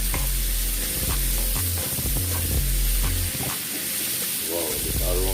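Seasoning sautés in a pan for Jamaican brown stewed parrot fish, giving a steady close sizzle with stirring clatter and a few scraping knocks, with no talk.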